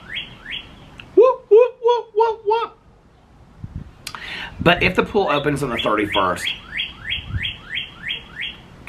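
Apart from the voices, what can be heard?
bird chirping nearby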